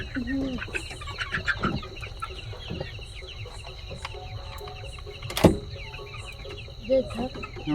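A few chickens cluck in short bursts, close by, in a Sundarbans village, among scattered background noises and some quiet talk.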